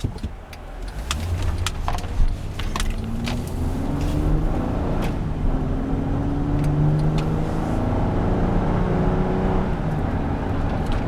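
A 2012 Honda Pilot EX-L 4WD engine revs and accelerates steadily, its pitch climbing through gears, loud and close with road rumble and no talking.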